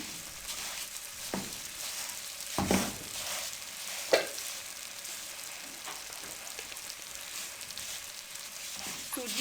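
Semolina (suji) roasting on a low flame in a pan for egg and suji halwa, with a steady soft sizzle under irregular scraping stirs and a few sharper clinks of the spoon against the pan, close and moderately quiet.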